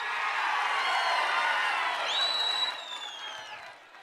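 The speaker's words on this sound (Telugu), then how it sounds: "గట్టిగా చప్పట్లు కూడా చెప్పండి మా ఆడబిడ్డలు" A public meeting crowd claps and cheers in a dense, sustained wash of applause, with a few high whistles and whoops rising over it before it fades slightly toward the end.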